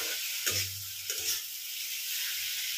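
Bitter gourd and potato fry in a pan after a light sprinkle of water, giving a steady close hiss broken by two short bursts of stirring or scraping, with no talk.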